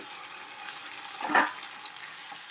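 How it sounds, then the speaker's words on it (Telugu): Ginger garlic paste and green chilies fry in a chicken curry pan with a soft, steady sizzle, a brief louder crackle and stir near the middle, faint and close with no voices. "పచ్చివాసన పోయే వరకు కొంచెం వేయించుకుందాం"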